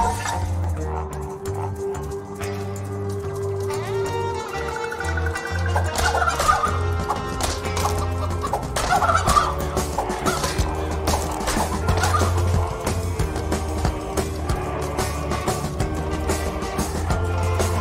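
Chickens in the DeathSpank video game cluck and gabble busily over a tonal game soundtrack, their fairly loud calls coming in clustered bursts throughout.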